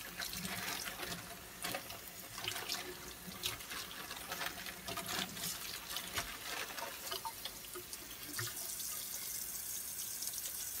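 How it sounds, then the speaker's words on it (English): A sink tap running as water splashes over the outside of a plastic bag, a faint steady rush with small splatters and drips throughout. "I'll just rinse the outside of this bag off."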